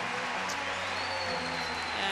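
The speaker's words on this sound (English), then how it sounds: "España, as they clap to the crowd" Basketball crowd of about 3,000 applauding steadily in an arena at a FIBA Women's EuroBasket 2021 game between Spain and Sweden, a dense continuous clapping wash with faint crowd murmur underneath.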